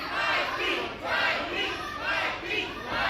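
Wrestling crowd at an indoor independent show cheering and chanting in rhythmic swells, rising and falling roughly every second, loud and close with no clear talk over it.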